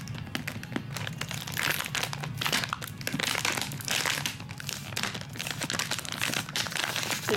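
A comic book in thick, hard, taped Mylar packaging is handled, giving a continuous loud crinkling and crackling of plastic right up close, with no talk.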